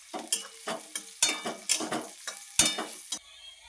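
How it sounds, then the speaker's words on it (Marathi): Onion and tomato frying in a pan for pav bhaji, with a steady sizzle broken by repeated scraping stirs and clinks of a spoon against the pan, close and alone. "टोमॅटो, कांदा, टोमॅटो चांगलं लाल होईपर्यंत भाजायचं."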